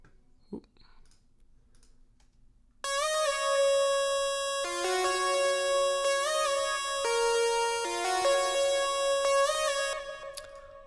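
A faint click comes first, then a layered synthwave lead bursts in, an unfiltered synth and a chiptune layer playing together, a loud, bright, buzzy melody of sustained stepping notes.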